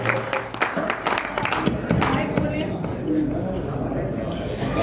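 Applause from an audience at a tribute stage show, moderate and continuous under a speaking voice.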